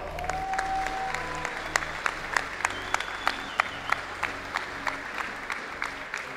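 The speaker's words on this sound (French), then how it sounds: "On peut les applaudir bien fort." A crowd at a Rainbow Six: Siege esports final applauds the third-place team, with loud, sustained clapping and sharp individual claps near the front, over a faint tonal background.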